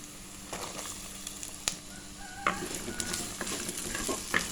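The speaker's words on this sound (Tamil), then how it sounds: "வெங்காயம் நல்லா வதங்கட்டும்." Onions sizzle steadily in a hot clay pot, with occasional scrapes and clinks of a spoon stirring, close and moderately loud.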